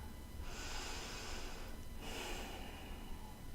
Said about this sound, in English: And just breathe.